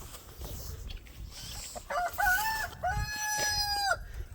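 Crowing roosters and clucking hens from a flock of hundreds of chickens being shut in for the night, with several overlapping crows rising over a steady background of clucks, fairly close and loud.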